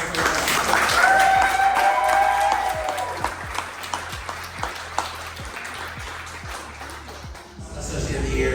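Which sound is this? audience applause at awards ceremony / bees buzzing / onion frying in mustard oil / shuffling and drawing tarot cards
audience applause at awards ceremony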